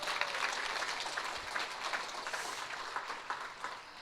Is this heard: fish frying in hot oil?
no